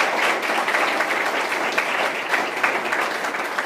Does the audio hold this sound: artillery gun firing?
no